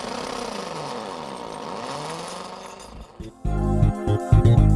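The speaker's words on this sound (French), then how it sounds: "Si vous devez utiliser la scie à cloche" A power drill fitted with a hole saw whines steadily, then bites in with rough, loud grinding bursts as the cutter engages.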